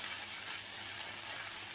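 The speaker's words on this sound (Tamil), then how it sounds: "பாருங்கள், கீரை வந்து நல்லா வதங்கி வருது." Brahmi (vallarai) leaves wilt and sauté in a hot pan, giving a steady, even sizzle that holds close and constant throughout with no voices.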